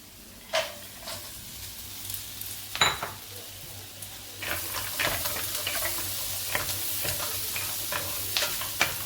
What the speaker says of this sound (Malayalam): കാഷ്യൂനട്ട് ഒന്ന് ഫ്രൈ ആവണ്ട, ജസ്റ്റ് ഒന്ന് ചൂടായി ഒന്ന് വരട്ടെ.